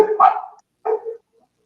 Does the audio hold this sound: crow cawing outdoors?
no